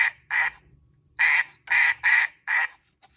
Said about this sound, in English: This is the sound of duck.